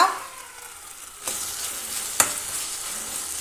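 Chopped tomato and onion sauté in a hot pan for a restaurant-style chicken chukka, a steady soft sizzle broken by a couple of sharp scrapes or clinks of a spoon against the pan.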